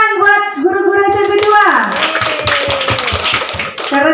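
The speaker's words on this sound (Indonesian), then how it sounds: "Kalau gitu tepuk tangan buat guru-guru SMP" A group claps in a steady rhythmic pattern for junior high school teachers during a school teacher-training session, the sharp close claps following a sung or chanted voice and continuing under it.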